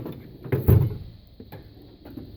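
A drawer in the top box of a tool box slides open with a soft metallic rattle and thump, followed by lighter clicks, heard close with no voices.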